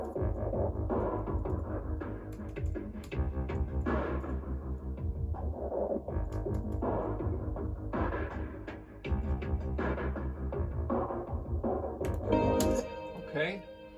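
A Trillion synth bass with automated volume plays alongside a drum kit, its thick low notes driving a busy, continuous groove under the beat.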